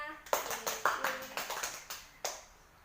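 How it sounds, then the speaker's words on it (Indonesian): Students in a primary classroom give a short round of applause, a handful of sharp separate hand claps in an uneven rhythm over about two seconds, close and fairly quiet, with a voice briefly audible. "Tepuk tangan untuk Mbak Fenty karena sudah mau bertanya"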